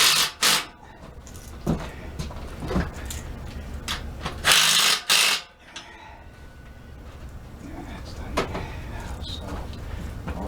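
Ratchet clicks in short bursts while tightening the front wheel of a motorized beach cruiser bicycle, close and fairly loud, with quieter handling noise between bursts.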